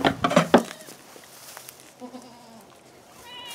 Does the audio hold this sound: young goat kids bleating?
yes